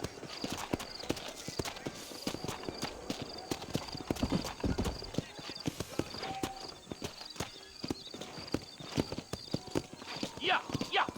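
Horse hooves clip-clop at a steady walking rhythm in the Western video game Red Dead Redemption, close and crisp, with a rider's spoken urging and a brief whinny over the steps.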